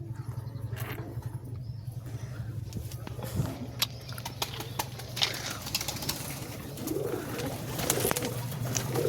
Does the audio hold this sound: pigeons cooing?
yes